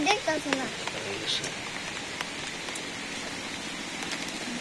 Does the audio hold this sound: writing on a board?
no